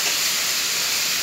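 Chilli paneer with vegetables cooks in a covered pan, giving a loud, even hiss of steam and sizzle that runs without a break, close by and without voices.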